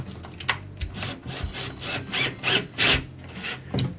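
Bolt being tightened on a wooden cutting table during assembly, a series of irregular rubbing, scraping and ratcheting strokes, close and moderately loud, with short pauses between turns and no talk.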